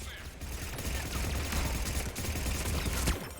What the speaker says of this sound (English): Where's that turret? You can hear it.